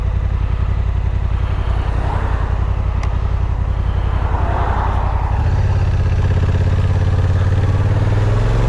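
A Honda NT1100 motorcycle being ridden, its engine a loud continuous throbbing drone heard close, with the pitch shifting as it changes speed and a deeper, steadier rumble in the final seconds.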